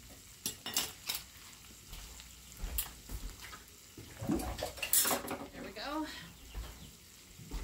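Potato and egg dumped into a hot pan on a home stove, a clatter of utensils and pan scraping followed by sizzling frying, close and moderately loud, with someone talking over it.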